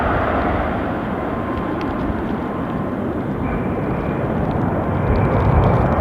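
A heavily delayed flight from Barcelona, the aircraft's jet engines sending out a loud, steady, broad roar that holds without a break and grows slightly toward the end.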